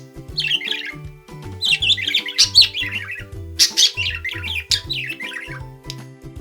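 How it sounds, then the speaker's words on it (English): A parrot squawks and calls in a rapid series of loud, harsh bursts, repeated several times over a backing of steady low tones. "It's the parrot. Parrots are known for their ability to mimic human speech and their vibrant colors."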